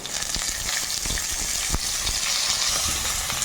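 Soaked chana dal frying in a pan for semolina upma with chopped ginger, a loud continuous close sizzle with a few scattered clinks and scrapes as it is moved around, no talking.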